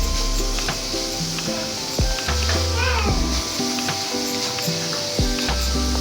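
Grated carrots for carrot halwa are stirred and cooked in a pan over low gas, with a continuous close sizzle and occasional scraping, while a voice is heard in the background.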